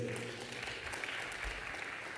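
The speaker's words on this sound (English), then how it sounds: "please, a big round of applause" Steady applause from a crowd, a dense patter of clapping that holds evenly throughout without pause.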